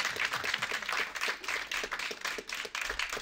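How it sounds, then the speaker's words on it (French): An audience at a film festival screening in Paris applauds a film producer, with dense, sustained clapping from a sizeable crowd that stays even and continuous throughout. "Je vous demande de faire un tonnerre d'applaudissements."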